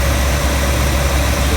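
A 1964 Chevrolet Impala's engine idles warm and steady, a loud, close, continuous low rumble with no talk over it.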